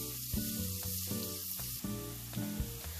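Sliced onions hit hot oil and ghee in a pan for dal makhani and sizzle in a steady, close hiss, with a low hum running under it.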